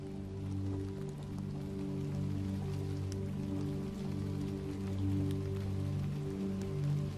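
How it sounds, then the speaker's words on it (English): Steady rain falls on a wide, curved glass roof, a continuous even patter that holds at a constant level throughout, close and unbroken, with no voices. "with rain falling steadily across it."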